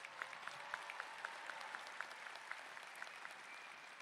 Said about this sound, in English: One more big round of applause for this group.